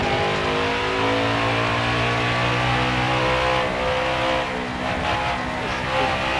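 An ARCA race car engine at Texas revs loud and close, a steady high-pitched roar that holds for several seconds and dips slightly near the end.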